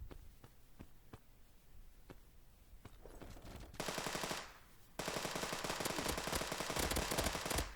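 Bursts of automatic gunfire from the online shooter game Fire Strike Online, starting as scattered single shots, then building into dense, loud sustained machine-gun volleys with a short lull in between.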